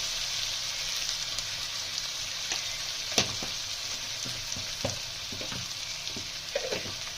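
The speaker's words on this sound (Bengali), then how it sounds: "ভালোভাবে মশলাটা কষিয়ে নিই" Spices with ginger-garlic paste and turmeric frying in a pan, a steady bright sizzle with scattered scraping stir strokes and small pops, close and continuous with no talking.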